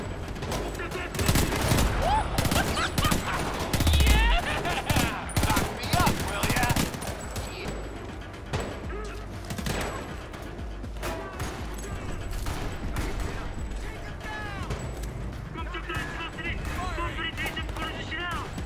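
Gunfire in Homefront: The Revolution comes as dense, loud bursts of automatic weapons fire, rapid and sustained through the first half and then thinning into scattered shots amid battle noise, with voices heard over it.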